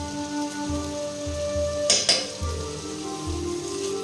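Spices and soybean chunks sizzle in hot oil while garam masala powder is stirred in, a steady close frying hiss with a brief sharper burst of crackle midway.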